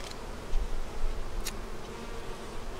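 Honey bees buzz around a deep eight-frame hive, a steady close drone with soft low thumps and a brief sharp click partway through, no voices.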